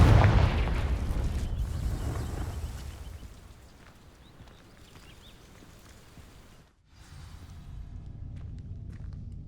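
Confringo fire spell in Hogwarts Legacy bursting into flame against dry vines: a loud fiery boom up front that fades into a low crackling rumble, a brief drop to near silence, then steady ambient rumble returns.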